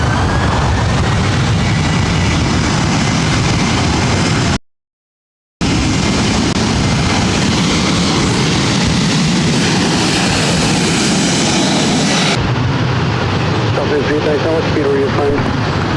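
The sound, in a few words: Boeing 737-900ER airliner taking off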